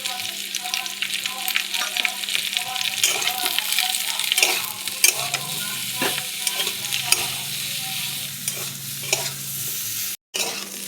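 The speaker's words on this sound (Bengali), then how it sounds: "ফোড়ন দিয়ে ফুলকপিকে আলুকে লাল লাল করে ভেজে নিলাম।" Cauliflower, potato and onion frying in a pan, a loud close sizzle under repeated scraping and stirring strokes of a spatula, with a brief dropout near the end.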